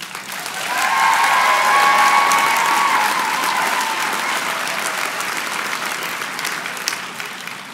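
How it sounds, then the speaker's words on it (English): Graduation convocation audience breaks into sustained applause, a dense roar of clapping that swells quickly, holds strong for several seconds, then slowly eases, with a voice briefly audible early on. "I think you deserve a round of applause as well."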